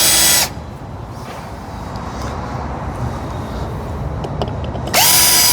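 A power screw gun drives screws into a boat's gel coat, giving two short loud whirring bursts at the start and end with quieter handling noise in between.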